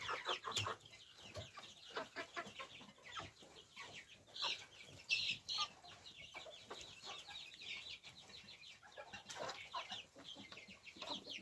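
A small flock of nearly three-month-old chickens, hatched by a duck, clucking and peeping nearby, busy overlapping calls with no talking.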